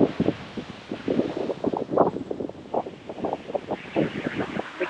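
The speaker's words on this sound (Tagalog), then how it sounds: "Diba ang hangin dito sa Japan?" Wind gusting near Kumamoto Castle in Japan, a steady rushing roar with irregular buffeting bursts on the microphone throughout, loud and close, with no voices.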